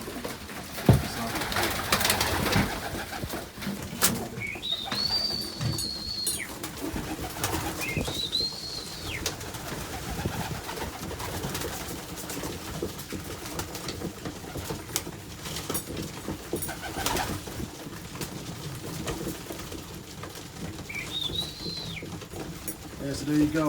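Pigeons in a breeding loft, many of them sitting on eggs, keep up a steady close chorus of low coos, joined by a few higher whistling calls that come and go.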